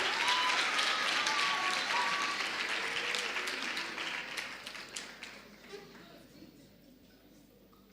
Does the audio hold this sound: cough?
no